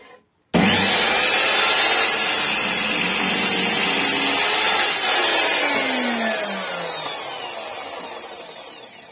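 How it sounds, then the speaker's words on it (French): Hand saw cutting through wood for a birdhouse: after a brief quiet start, loud, close rasping strokes run continuously, then gradually fade toward the end, with no talking. "je vais scier, donc baissez le son si c'est le cas"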